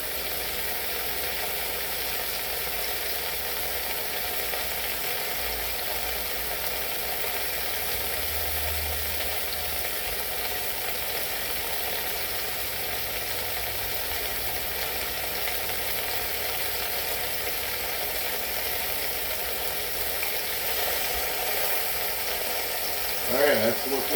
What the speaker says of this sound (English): We're just trying to sear those sides.